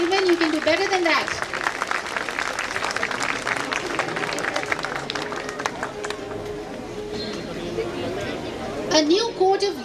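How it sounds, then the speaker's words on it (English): Parents and guests at a school annual day celebration clap for children, a lively round of applause with crowd chatter and voices over it, tapering before a voice returns at the end. "Let's give the children a big hand of applause."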